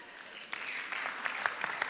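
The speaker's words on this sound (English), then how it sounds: "Round of applause, please." Light applause from an audience at an IGNITE talk event in Amman, a modest patter of clapping at low level with a few louder individual claps.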